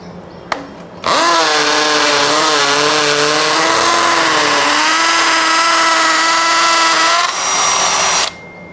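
A Bosch GSB 183-LI 18V cordless impact drill on impact mode whines and grinds continuously for about seven seconds with a 10 mm masonry bit, its pitch wavering as it bores into a masonry wall, then stops abruptly.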